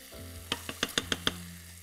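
Mushrooms go into a pan of softened onion and hit the hot fat, giving a quick run of six sharp crackling pops over a low steady hum, close and fairly quiet, with no talk.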